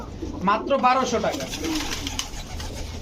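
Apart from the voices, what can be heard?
pigeons cooing, Moyna Dobash pigeons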